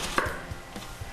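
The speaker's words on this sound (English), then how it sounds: "when I am cutting up onions like this" A knife cuts through onions on a board in a quick run of four or five crisp, close taps, fairly quiet and evenly spaced, with no voices.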